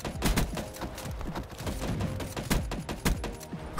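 Gorgon LMG light machine gun in the video game Black Ops 3, fitted with rapid fire and an extended magazine, firing in rapid bursts of sharp, punchy shots, loud and continuous with no talking.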